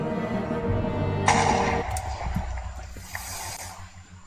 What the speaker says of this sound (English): What just exploded?